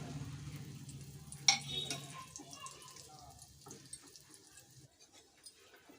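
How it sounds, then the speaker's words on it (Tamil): Cinnamon and cloves sizzle in hot oil inside a pressure cooker, a steady frying hiss with a sharp clink near the start, the sizzle fading toward the end. "எண்ணெய் காஞ்ச உடனே பட்டை, லவங்கம் எல்லாத்தையும் சேர்த்துக்கணும்."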